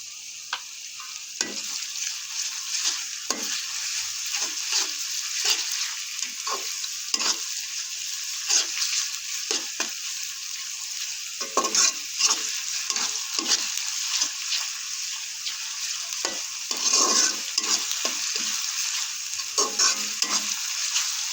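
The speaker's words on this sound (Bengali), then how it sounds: "পেঁয়াজটা কিছুক্ষণ নেড়ে চেড়ে দিয়ে দেব 2 টেবিল চামচ পরিমাণ রসুন বাটা" Onion and garlic paste stirred in a frying pan, with a continuous hiss of sizzling oil and repeated scraping strokes of the spoon at an irregular rhythm, close and fairly loud with no talking.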